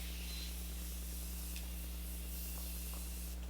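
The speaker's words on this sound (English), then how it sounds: "I'm gonna use this Beauty Bakerie setting spray, and I like how it comes out because it's like a really fine mist" A steady, fine hiss of Beauty Bakerie makeup setting spray misting continuously, fairly quiet, with a few faint clicks and no voices.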